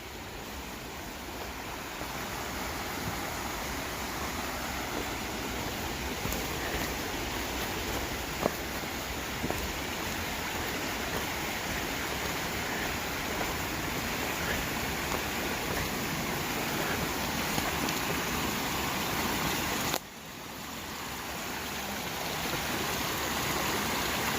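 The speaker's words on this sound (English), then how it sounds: "you can hear the sound of the waterfall." Waterfall and stream flowing in the Great Smoky Mountains along the Appalachian Trail, a steady, close rushing wash of water that carries on unbroken for the whole stretch with no voices.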